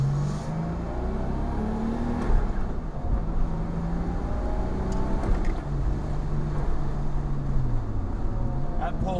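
A Nissan R33 Skyline sedan with increased boost accelerates, its engine note climbing through gears with rising and falling pitch, heard from inside under light talk.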